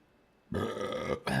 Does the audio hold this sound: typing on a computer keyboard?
no